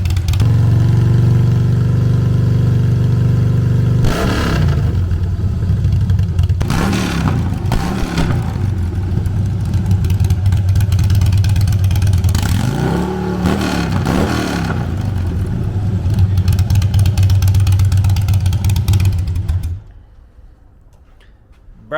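A car engine idles with a deep, throaty rumble through a new exhaust, then revs sharply several times before settling and cutting to near silence at the end.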